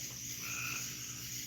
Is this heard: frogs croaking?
yes